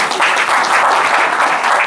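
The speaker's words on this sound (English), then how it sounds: "He needs a better round of applause, please." Conference crowd renewing applause for an anti-corruption commissioner, a dense, steady wash of many hands clapping in a large hall, loud and close.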